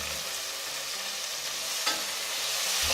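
Tomatoes go into roasted onion frying in a pan for prawn biryani, producing a steady close hiss of sizzling oil with a brief louder flare near the end and no voices.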